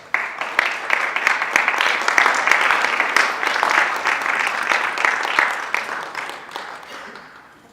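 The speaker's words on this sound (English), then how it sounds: "Ladies and gentlemen, make some more round of applause for Mr. Thomas." Guests at a wedding reception applaud the groom's father, a lively full round of clapping from a room of people that holds strong and then tapers off toward the end.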